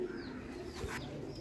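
Pure Teddy breeder pigeons, including a female, give faint, soft cooing over a steady background hum in a pigeon loft in Lahore.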